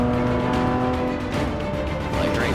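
A race car in Forza 6 slowing under braking, its engine tone steady and loud with a faint tire scrub, continuous throughout with no talk.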